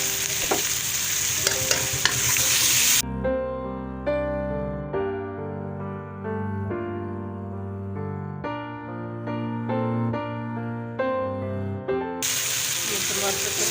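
Garlic, ginger and green chili paste sizzling with fried onions in a pan for goat intestine curry, a loud steady crackle at the start and end around a stretch of background music.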